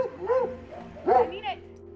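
A police K9 dog barks and yelps in a few sharp bursts during a struggle to arrest a woman, close and loud, with voices mixed in.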